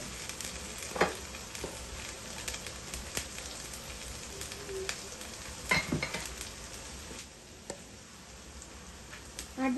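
Garlic paste sautés in a pan for a pumpkin leaf and black bean dish, a soft continuous sizzle broken by occasional scraping stirs and clinks, quiet and close, with no one speaking.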